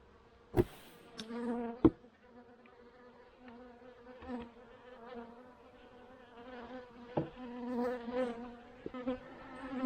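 Honey bees buzz around an open hive box, a soft, wavering hum rising and falling near the listener, broken by a few sharp knocks and clicks of hive parts being handled.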